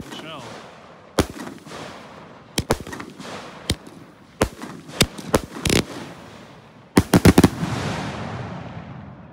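Consumer firework shells at an open pyrotechnics shoot thump up and burst in a series of sharp, loud cracks and booms, some close together in a rapid cluster near the end, with fading rumble between them.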